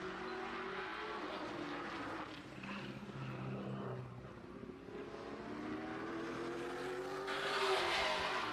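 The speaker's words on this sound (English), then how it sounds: "Tyler Mayhew in the 17 car, next one to take some green flag laps" A race car takes green flag laps at Madera Speedway during qualifying, its engine droning steadily from a distance and rising and falling as it goes around the track, with a louder surge near the end.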